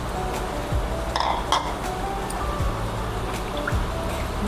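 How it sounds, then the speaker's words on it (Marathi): Water poured onto broken wheat (daliya) in a bowl for rinsing makes a continuous close splashing, trickling wash with small gurgles and drips, steady throughout, with no talking. "आता परत आपण दुसरं पाणी टाकून घेतलं त्याच्यामध्ये."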